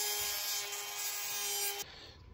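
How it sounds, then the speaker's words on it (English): Grinder taking the high pin off a tail light bulb for a 12V conversion on a 1945 Willys Jeep, a steady high-pitched grinding whine up close that stops abruptly after about two seconds. "So I'm just going to grind off that high pin, and that'll allow it to be installed."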